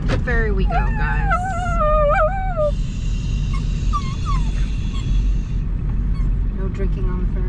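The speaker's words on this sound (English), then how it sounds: "No barking on the ferry." A dog aboard a ferry ride off Cedar Island, North Carolina, gives a series of high, wavering whines and yips over a loud, constant engine and water rumble, then falls quiet as the drone continues.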